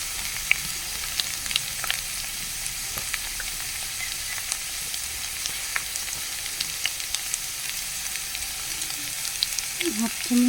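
Potatoes with poppy seeds frying in a pan, a constant close sizzle with scattered crackles and occasional scrapes of stirring running throughout, with no talking.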